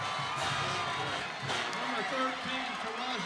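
Crowd of fans roaring at a high school football game, a sustained noisy swell of cheers and shouts with a commentator talking over it.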